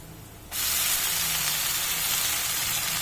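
Chopped greens go into a pan of fried onions and set off a sudden loud sizzle, a sharp hissing burst that rises abruptly and stays steady and close.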